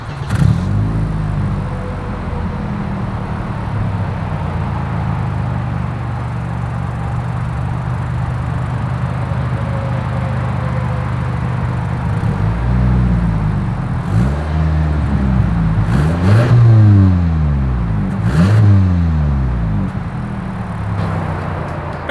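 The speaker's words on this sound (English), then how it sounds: "As always, here is that exhaust clip." A 2022 Toyota Camry sedan's exhaust at close range, a steady idle rumble followed by several sharp revs that climb and fall back, growing louder toward the end.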